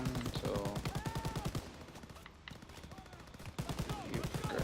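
Rapid bursts of automatic gunfire crackle through a Call of Duty WWII battle on the Stronghold mission, loud at the start and end with a quieter lull in the middle, amid other combat noise.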